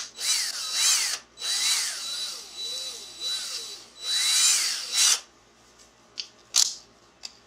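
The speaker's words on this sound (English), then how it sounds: "The rest of it goes in the drill, and you start your drill, your hole." A power drill bores a hole during work on an arcade cabinet, in several whirring bursts that rise and fall in pitch, with short pauses and sharp clicks between them, close by.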